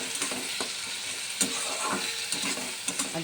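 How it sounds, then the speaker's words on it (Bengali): Tomato, onion, garlic, ginger paste and green chilli masala fries in a pan while a spoon stirs it, giving steady close sizzling with intermittent scraping clicks and no voices. "মশলা দিয়ে এটাকে ভালো করে কষিয়ে নেব।"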